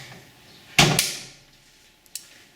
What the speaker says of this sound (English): that's the door coming unlocked